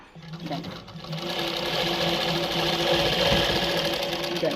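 A zigzag sewing machine runs steadily while stitching falls onto a saree, a loud close mechanical whir with a rapid rhythmic knock, as someone talks over it.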